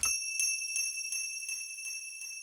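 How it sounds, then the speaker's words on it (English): A bright metallic triangle rings out, struck in a quick even tremolo, its high pure tones sustaining and slowly fading. "I got my transition sound, so I got my like triangle"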